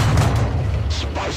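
A heavy tank's main cannon fires in War Thunder, a deep, loud, sustained boom with rumbling low end filling the whole moment, no speech over it.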